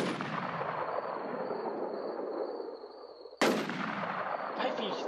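Gunfire in the online zombie survival shooter Infestation The New Z: two loud, close bursts, each with a sharp attack and a long, fading rumbling tail.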